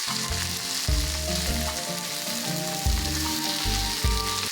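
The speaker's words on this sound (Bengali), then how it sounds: "তারপরে কিছুটা পেঁয়াজও দিয়ে দেবো দিয়ে হালকা করে ভাজতে থাকবো" Onion, panch phoron and green chilli sizzle steadily in hot oil for a lau shak chanchra, with a loud continuous hiss broken by a few stirring scrapes.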